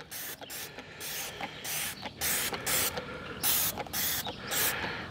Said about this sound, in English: So I got my Dawn and we're just going to spray this down and let it soak.